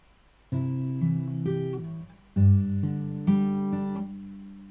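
Fingerstyle acoustic guitar plays the first two measures of a song from Final Fantasy X, with slow, ringing melody notes over sustained bass in a few plucked phrases, close and clear with no talk.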